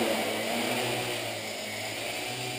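The motors of an RC Logger RC Eye 650 multicopter whir steadily as it lifts off the ground, a close, continuous buzzing drone with no talking.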